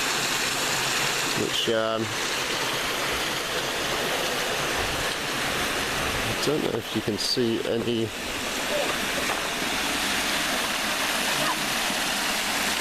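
Steady rushing water at the water mill at Almond Valley, a loud continuous wash running throughout, with a person talking over it in brief moments.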